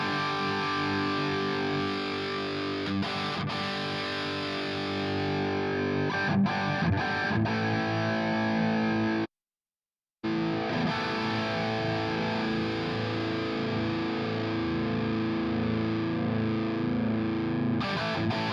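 A distorted electric guitar run through a Two Notes Torpedo impulse response with a 57 microphone, playing dense, sustained riffs with a saturated tone, cut by a brief silent gap midway, loud and without voices.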